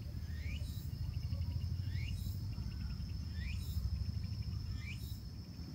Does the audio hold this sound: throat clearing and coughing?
no